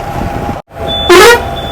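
A truck's horn honks in one loud, sustained blast of about a third of a second, standing out over steady road and engine noise with a short dropout just before it.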